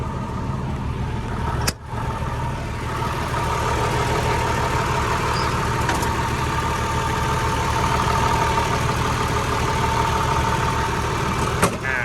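A six-cylinder turbo diesel engine of a Hitachi LX130-7 wheel loader idles steadily and loudly nearby, a constant low rumble with a brief knock near the start and another near the end.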